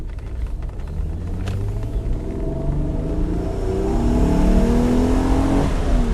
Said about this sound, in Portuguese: ouvindo o ronco do motor.